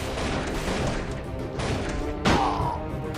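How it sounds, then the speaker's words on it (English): Muffled battle explosions in the airship war game Airships: Conquer the Skies, a continuous rumbling barrage with one sharper blast near the end, loud and somewhat distant over a busy game background. "Explosions and blood gore is happening."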